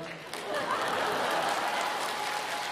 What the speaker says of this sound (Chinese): 没有什么名气，大家不用鼓掌。